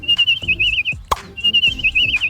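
Warbling whistle imitating bird calls from The Simpsons, a sustained trilling line that breaks off for a sharp knock near the middle, then resumes just as long and steady, with low thumps and clatter beneath.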